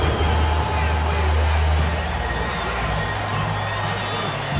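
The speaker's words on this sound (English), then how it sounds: "Another round of applause for your Los Angeles Lakers." An arena crowd in the NBA 2K basketball video game cheers and applauds at a Celtics-Lakers game, a continuous loud roar with a low droning tone underneath.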